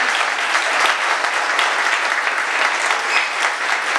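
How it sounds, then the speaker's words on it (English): A crowd at a Minneapolis candidates' forum gives a round of applause, loud, dense clapping from many people that runs steadily without a break. "Let's just give one round of applause to all the candidates."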